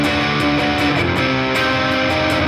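An electric guitar played through heavy distortion rings out dense sustained chords, loud and saturated with faint rhythmic changes, with no talking over it.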